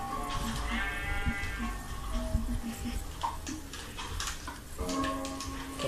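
Sheep in the video game Minecraft bleat twice, with short synthetic bleats near the start and again near the end, over faint game background noise.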